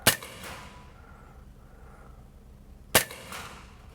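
Two sharp pops from a Sig Sauer 1911 Spartan air pistol fired at a range, about three seconds apart, each a crisp close transient with a brief tail and quiet background between.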